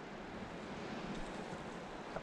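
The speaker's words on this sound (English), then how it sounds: "Water just coming straight out the mountain." Spring water flows straight out of a mountainside near Gatlinburg, Tennessee, as a faint, continuous rushing wash with no breaks.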